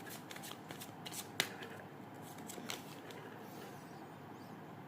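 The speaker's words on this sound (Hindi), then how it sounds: "हम लोग जल्दी से कार्ड्स निकाल लेते हैं आपका रीडिंग का" Tarot cards being shuffled and drawn by hand, a quiet run of riffling card flicks with one sharper snap near the start, close and alone with no talk.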